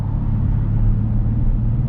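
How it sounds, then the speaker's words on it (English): A 2018 Mercedes-AMG 503-horsepower twin-turbo V8 driving in Sport Plus mode along the Las Vegas Strip at night, giving a steady, loud, deep engine rumble that holds constant throughout with no talk. "503 horsepower V8 bi-turbo AMG, like I said earlier, 2018."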